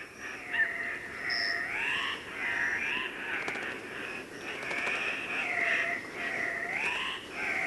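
Repeated harsh, nasal calls from an unseen South American forest bird, loud and near, rising and falling in pitch and overlapping one another over a soft forest background.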